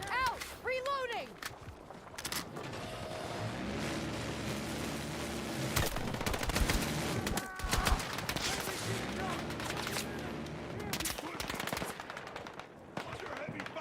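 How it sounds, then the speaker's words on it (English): Heavy, sustained automatic gunfire from a Battlefield 6 firefight, dense rattling bursts layered with distant shots and mechanical clatter, loud and continuous throughout with shouted voices mixed in. "Under heavy fire."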